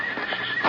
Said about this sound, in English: There were only 3 or 4 horses out in front,